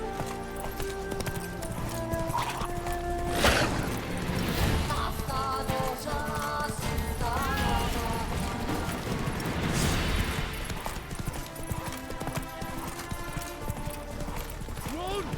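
Roach the horse galloping in The Witcher 3, with rapid rhythmic hoofbeats pounding close up and occasional whinnies, over game music and bursts of voices calling out.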